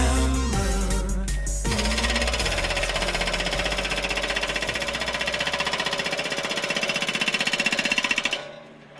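Loud, rapid mechanical pounding of an impact hammer, hammering steadily and continuously close by before cutting off at the end.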